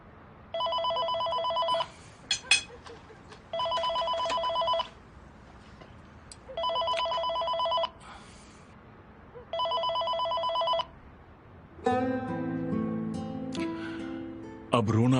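A telephone bell rings in four loud, evenly spaced bursts during a tense scene in a Turkish drama, followed by swelling background music with faint talk underneath.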